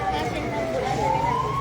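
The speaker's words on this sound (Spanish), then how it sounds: "no quiere. Ambulancia." An ambulance siren wails, sweeping slowly upward in pitch over a low traffic rumble during a flood, with a voice speaking nearby.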